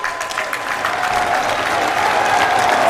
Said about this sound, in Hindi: अपनी तालियों के प्रणाम आप मंच तक पहुँचाएं।